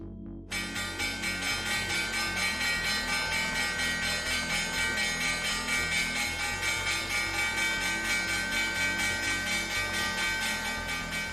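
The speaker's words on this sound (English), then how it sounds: "the bell's about to ring" A stock market opening bell rings continuously for about eleven seconds, bright and sustained with a shimmering metallic tone. It starts abruptly after a brief silence and stays steady at moderate loudness.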